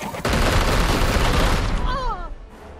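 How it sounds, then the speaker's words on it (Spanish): Weapon fire from a Warhammer 40K: Chaos Gate Daemonhunters battle, a loud dense burst of gunfire and rumble lasting about two seconds, then a warbling energy whine as it fades. "Estupendo, muy buen disparo."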